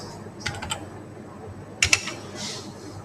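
Quick clusters of keystrokes on a computer keyboard, a few soft taps early on, then two sharper clicks later, close and fairly quiet against a faint room hiss.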